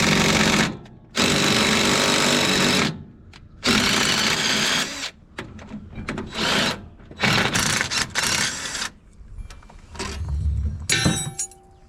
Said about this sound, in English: let's see if we can get this bolt out of here